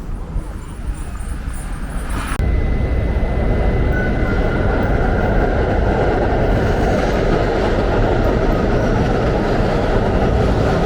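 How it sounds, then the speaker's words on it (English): A New York City subway train near Herald Square rumbles loudly and steadily, a constant heavy roar of wheels on track after a brief quieter moment at the start. "I'm gonna hop on the train"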